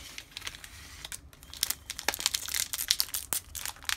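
Bowman baseball card packs being torn open and wrappers crinkled, a run of sharp crackling and ripping bursts, close and fairly loud, with no talk.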